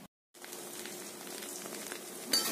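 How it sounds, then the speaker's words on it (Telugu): Goat head curry sizzles steadily in a hot pan, a continuous close crackle that sets in after a brief silence at the start and carries on without talk. "ఈ విధంగా తలకాయ కూరని ఫస్ట్ ఈ విధంగా మనం ఫ్రై చేసుకోవాలండి"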